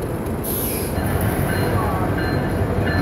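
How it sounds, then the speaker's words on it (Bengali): A passenger train pulls into Kamalapur railway station in Dhaka, a loud continuous rumble of wheels on rails with a high squeal near the start, heard close from the platform. "তো আরও একটি ট্রেন প্রবেশ করছে কমলাপুর রেল স্টেশনে"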